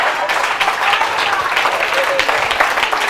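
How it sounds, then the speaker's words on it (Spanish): Loud, sustained applause from a stand-up comedy crowd in Mexico City, dense clapping filling the space with a faint voice briefly audible underneath. "Miren, un aplauso para ustedes, muchachos."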